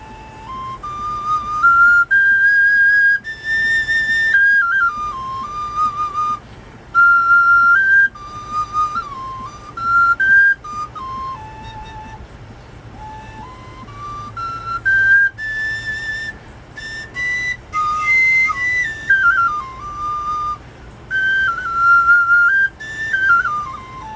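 A handmade Native American flute built from natural materials plays a solo melody of clear, breathy sustained notes with short pauses between phrases, loud and close, no talking.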